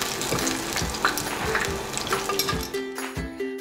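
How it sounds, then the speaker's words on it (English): Kabocha squash tempura frying in hot oil, a steady close sizzle and bubbling with occasional light pings of utensils against the pot. "It's been fried for about 3 minutes, so let's flip them over."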